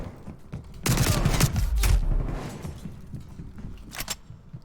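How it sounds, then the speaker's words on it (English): Submachine gun fire in a first-person shooter video game, a loud dense burst of rapid shots for about a second, then a short second burst near the end. "Everybody's using an SMG."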